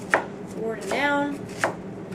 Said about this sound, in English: each time I chop, I'm going to go forward and down